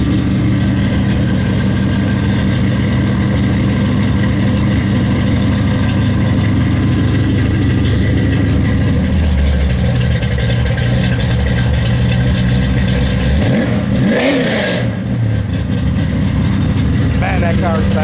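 A 1972 Chevrolet Chevelle SS V8 rumbles at a steady, loud idle, settling lower partway through before a quick throttle blip, with voices close by.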